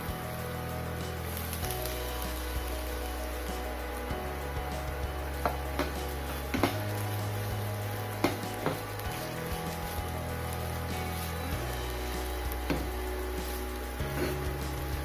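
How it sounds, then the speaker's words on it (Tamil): Ginger and garlic fry in hot oil for homemade Schezwan sauce, a steady soft sizzle like light rain with occasional small pops and faint clicks of stirring, no talking. "இஞ்சி பூண்டோட ஸ்மெல் போகிற வரைக்கும் நம்ம வறுத்து எடுத்துக்கலாம்"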